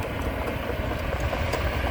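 A Kobelco SK200 excavator with a Hino diesel engine runs steadily nearby, giving a constant low rumbling drone with no break or change, and no voices.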